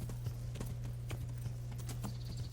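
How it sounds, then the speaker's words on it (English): A horse's hooves walk uphill in the medieval video game Kingdom Come: Deliverance, giving a steady, close clip-clop over a constant low hum. "How well does our horse traverse uphill?"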